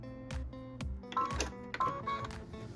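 A sewing machine stitches a tack-down line across a quilt block, giving short mechanical bursts of rapid stitching separated by brief pauses. The sound is close and fairly quiet.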